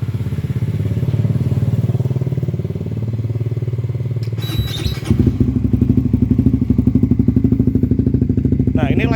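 A Suzuki GSX-S150 motorcycle with a KEA Speed NA-1 racing exhaust runs at a loud, steady idle. There is a brief clatter partway through, then the engine settles into a deeper, even throb close up.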